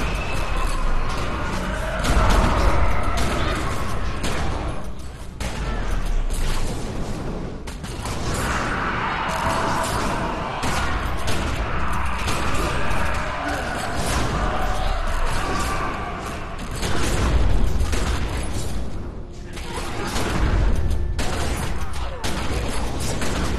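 Sustained volleys of gunfire and explosive blasts from a battle in the video game The Secret World, dense and continuous throughout with periodic heavier booms.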